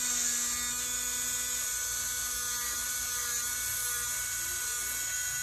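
An electric nail drill files gel nails on a Russian-mold gel extension with a steady, close, high-pitched whine that holds constant throughout, with a low motor hum beneath it.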